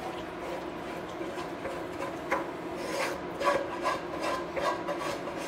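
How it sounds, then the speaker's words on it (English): A utensil scrapes cooked arancini rice mixture out of a pan into a tray, giving repeated close rasping strokes against the metal, with no talking. "Scrape it all out, don't want to waste any."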